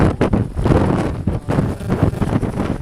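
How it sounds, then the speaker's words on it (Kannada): Strong wind gusting across a misty hilltop in Chikmagalur, loud buffeting roar hitting the microphone in uneven surges, no voices. "ಗಾಳಿ ಭಾಳ ಐತಿ ಮಂಜೆ"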